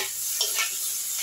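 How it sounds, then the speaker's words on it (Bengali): Thankuni greens fry in a pan with a steady close sizzle while a utensil stirs them in two brief scraping strokes. No one speaks. "শাকটাকে আমি নেড়ে দিচ্ছি।"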